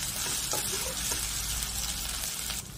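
Ginger garlic paste frying in hot oil, a loud, steady, close sizzle that holds throughout and drops slightly at the very end.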